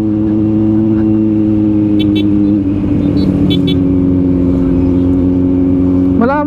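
A Kawasaki Z900 motorcycle being ridden gives a steady, close engine drone with clear harmonic tones that shift slightly in pitch, continuing throughout with a voice talking over it.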